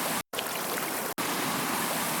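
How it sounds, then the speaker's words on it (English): Broadband rushing water from a Foley library, a steady waterfall-like hiss that cuts out sharply twice, once briefly near the start and again about halfway through. "I've got a bunch of water sounds."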